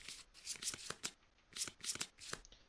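A deck of Kingdom Death board game cards is riffle-shuffled close by, several quick crisp bursts of flapping cards separated by short pauses.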